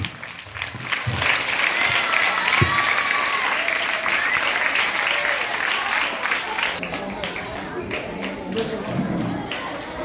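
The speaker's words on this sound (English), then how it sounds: "All should welcome them with thunder claps." A school farewell crowd in Palnadu district bursts into sustained applause as teachers are invited onto the dais, dense clapping filling the room for ten seconds while voices chatter and call out beneath it.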